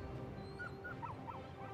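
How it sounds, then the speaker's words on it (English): Dog in the video game Final Fantasy XVI whimpering softly, a few short high whines over a steady background hum, faint and close. "He's such a cute dog."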